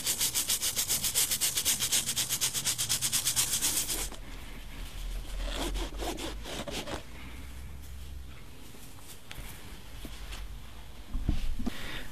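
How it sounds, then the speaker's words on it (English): Leather on Air Jordan Retro 13 sneakers is scrubbed with Lincoln Easy Cleaner: fast rhythmic rubbing strokes up close at first, then slower scattered scrubbing and brushing with a brief louder knock near the end. "Now I'm going to clean the leather using Lincoln Easy Cleaner."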